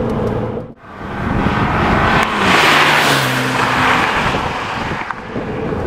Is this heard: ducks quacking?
no